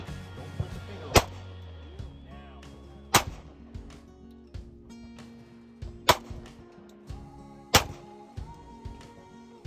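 Handgun shots ring out at a tactical shooting class, four sharp loud cracks spaced a couple of seconds apart, with fainter distant shots and background noise between them.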